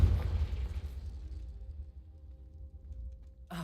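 Confringo spell blast in Hogwarts Legacy, a heavy low boom at the start that rumbles and fades over a few seconds before a sharp new sound cuts in at the end.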